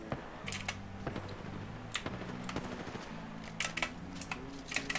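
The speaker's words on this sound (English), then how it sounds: "Oh, I hear gunfire." Gunfire in a first-person shooter video game: faint, scattered sharp cracks and short bursts at a distance over a low background of game music tones.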